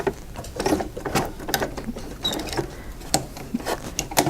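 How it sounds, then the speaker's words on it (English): Sewing machine stitching over ribbon on a baby blanket, close rapid mechanical patter in short irregular bursts with small pauses between runs. "is the third or fourth time that we're sewing over this ribbon"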